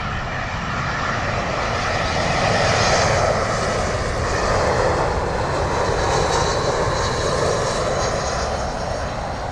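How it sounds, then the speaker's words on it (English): A British Airways Airbus A319 arriving at London Heathrow from Toulouse gives a loud, steady jet roar that swells slightly and holds throughout, close by and alone. "From Toulouse now, British Airways Airbus A319."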